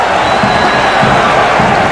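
A basketball arena crowd of 19,000 cheers loudly and continuously throughout a 1978 NBA playoff game, a dense roar of voices with scattered clapping.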